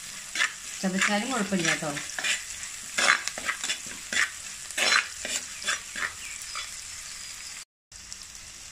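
Chopped ginger for a mullet curry sizzles and fries in a pan as it is stirred with scraping utensil strokes and a brief clatter, while someone talks over the cooking.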